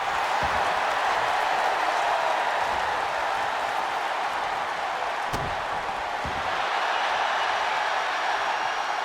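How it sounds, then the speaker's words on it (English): Steady roar of a wrestling arena crowd in a video game, a loud continuous wash of noise with a few sharp impact thuds standing out briefly. "The crowd chanting, what?"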